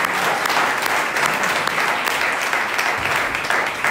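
A church congregation applauding the Lord, with dense, steady clapping from many hands filling the space continuously and loudly throughout, no pauses.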